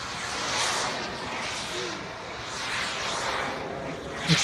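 An aerobatic aircraft's engine roars steadily through a controlled vertical maneuver, a dense, fairly loud wash of noise that swells and eases slightly, with a brief louder burst at the very end.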